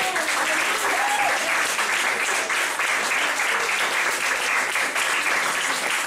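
A church congregation bursts into sustained, dense applause, loud and even throughout with a few cheers mixed into the clapping.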